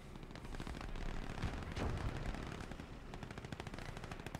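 Dense machine-gun and rifle fire from a Soviet-versus-German battle in the Gates of Hell: Ostfront strategy game on a farmstead map, with a pack gun firing, heavy sustained bursts and booming impacts throughout, loud and continuous.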